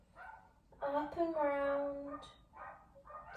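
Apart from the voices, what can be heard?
dogs barking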